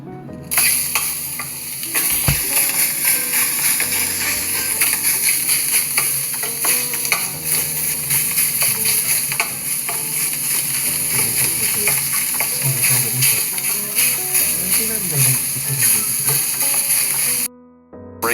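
Loose breakfast sausage fries in a pan with a loud, continuous sizzle, broken by repeated scraping and clattering as it is stirred and broken up; the sound stops abruptly near the end, and there is no talk.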